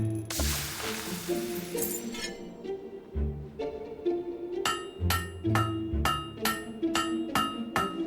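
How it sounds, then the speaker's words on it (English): Hammer blows ring out on a blade at a forge in the Fable 3 video game, a steady run of sharp metallic clanks near the end, each about half a second apart, over game music and background noise. "Don't you know how to use a hammer?"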